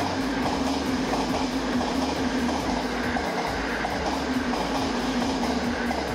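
A Joban Line limited express train roars through Kita-Senju station close by at speed, a loud continuous rumble with rhythmic clacking of wheels over rail joints throughout.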